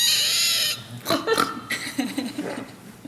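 A woman imitates a pig with a series of guttural grunts, snorts and squeals, close and loud. A bright noisy burst comes first, then irregular short bursts follow.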